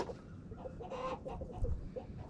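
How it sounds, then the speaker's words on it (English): Hens cluck softly after a feeding, several short close-up clucks and murmurs from a small backyard flock, with no talking. "Well, looks like the chickens are done pigging out."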